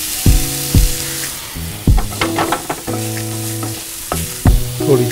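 Green peas, cauliflower, carrot, beans and paneer being stir-fried in a pan for veg chakori, with a metal spatula striking and scraping the pan in several ringing clangs over a steady sizzle.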